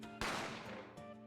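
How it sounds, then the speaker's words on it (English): A single sharp gunshot in The Great Ace Attorney, a loud sudden crack that decays quickly into a short echoing tail, heard alone. "A gunshot rang out"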